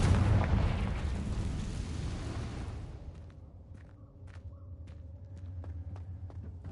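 A Confringo explosive spell goes off in Hogwarts Legacy, a loud fiery blast that roars for nearly three seconds and then dies into a low rumble, with sharp crackles and small pops scattered over the fading tail.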